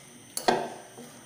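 Vegetable rice is served into a dish, giving two quick, close metallic clinks of a spoon against the vessel followed by a faint softer scrape, with no talk.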